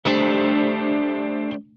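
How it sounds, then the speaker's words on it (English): An electric guitar played through a Strymon NightSky reverb pedal with an envelope filter gives one loud sustained chord swelling into a shimmering, processed wash that holds, then cuts off abruptly, leaving a faint tail. "you can use an envelope filter to create a reverb that will go away whenever you stop"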